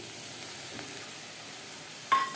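Semolina frying in oil in a pan, a faint steady hiss of sizzling that jumps into a louder burst near the end as more goes in.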